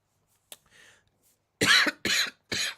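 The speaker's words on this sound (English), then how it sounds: "I've just coughed down and probably blared your ear holes out" Three close, loud coughs in quick succession from a man broadcasting live, preceded by a few faint small sounds.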